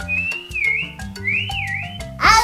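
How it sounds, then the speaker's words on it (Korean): A person whistles a short, wavering melody with sliding pitches, close and clear, over faint background sounds, ending with a brief burst of noise. "부르듯이 휘파람 부는 거야"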